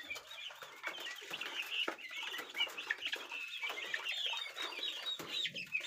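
Poultry chicks chirping in a farm pen, a dense chorus of high, overlapping peeps that continues throughout at moderate distance, with no talking.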